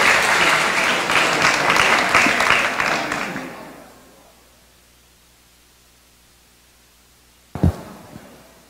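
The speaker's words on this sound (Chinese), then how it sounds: "热烈掌声欢迎他上台。" Audience at a talk on working holidays in Australia claps to welcome a speaker onto the stage, a dense, loud burst of applause that fades out after a few seconds, followed by a short thump.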